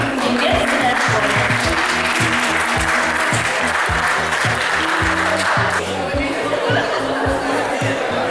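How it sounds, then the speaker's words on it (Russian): A hall audience applauds as students are called onto a stage: loud, sustained clapping with crowd chatter mixed in, easing slightly toward the end. "Под гром аплодисментов мы приглашаем на эту сцену учащихся группы 1 ПКО."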